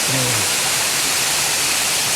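Clear water flowing steadily at close range, a constant broad rushing wash with no pauses.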